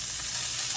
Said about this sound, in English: Now my pan's heated up, so I'm going to put in my onion, and a little bit of garlic.